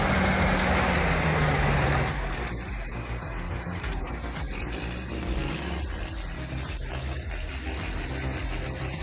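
A heavily loaded logging truck hauling over 60,000 pounds climbs a red clay hill, its engine laboring loud and steady, with a strained tone for the first two seconds that then settles into a rough, continuous drone.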